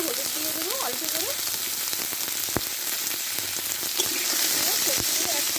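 Mixed vegetables with a little turmeric sautéing together in a pan, a steady close sizzle and crackle with occasional stirring knocks, while a voice speaks briefly over the frying.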